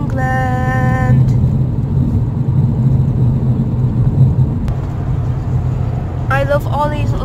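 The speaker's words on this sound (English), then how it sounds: "Just driving through the countryside, cold England." A car drives through cold English countryside with a steady, close engine and road rumble throughout, and a few brief high tonal chirps near the start and end.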